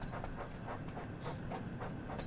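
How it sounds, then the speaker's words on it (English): Train sounds from the video game Thomas & Friends: Wonders, a steady rolling rumble with a light rhythmic clatter and faint hiss, continuous and fairly close, no voices. "I've never played a train simulator game either"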